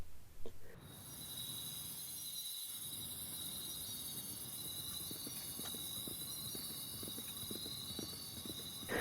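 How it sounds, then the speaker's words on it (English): A horse's hooves gallop with steady clopping in a quick rhythm beneath a constant high chirring of crickets, moderately distant and fairly quiet. "The sound of crickets and flowing water is suddenly pierced by the thundering hooves."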